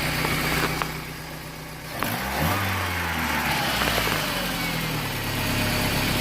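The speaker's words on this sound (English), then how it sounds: "That idle is beautiful. Engine's nice and quiet." A Dodge Neon engine, freshly rebuilt with a new rod and piston after hydrolocking, idles close by with a steady low rumble, dipping briefly and then settling back into an even idle.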